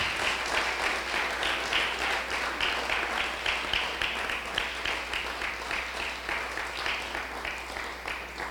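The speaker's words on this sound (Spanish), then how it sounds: "Dale un fuerte aplauso al Señor" A church congregation claps loudly and continuously in praise, a dense, even wash of many hands filling the room with a low hum underneath throughout.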